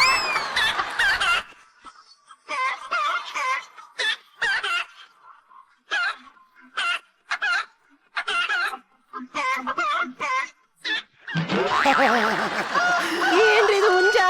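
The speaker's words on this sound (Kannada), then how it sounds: "ಏನ್ರಿ ಇದು ಹುಂಜ?" A rooster clucks in a rapid series of short, close, loud calls, then ends in a long drawn-out crow, with some laughter mixed in.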